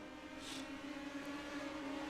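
Indy Pro 2000 race cars in iRacing drone with a steady, fairly faint engine tone at a constant pitch, carrying on unbroken throughout.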